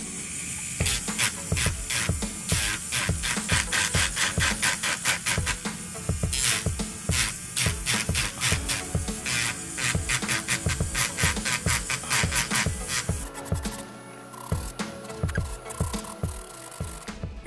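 An electric nail drill running at about 8,000 RPM files gel product off nails, giving a steady close whirring grind in quick rhythmic passes that then settles into a lighter hum near the end.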